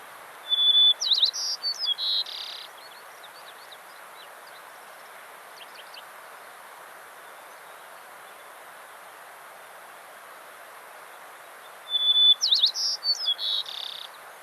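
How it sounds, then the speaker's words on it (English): A bright, clear white-crowned sparrow song with whistled notes and trills rings out twice, at the start and near the end, over a faint steady hiss. "We'll listen to a white-crowned sparrow here."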